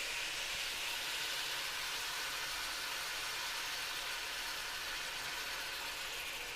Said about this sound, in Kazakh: Соя соусын қосамыз, бірақ көп емес